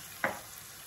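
Cumin powder is added to hot oil in a pan for an Indian cauliflower curry, giving one short, soft sizzling hiss that fades quickly against a quiet background.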